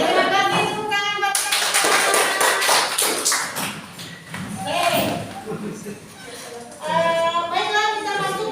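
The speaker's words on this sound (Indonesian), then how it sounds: "Oke, terima kasih. Tepuk tangan buat" Classroom of children clapping hands together for a classmate, a burst of brisk claps lasting a few seconds between stretches of a teacher's voice and children's chatter.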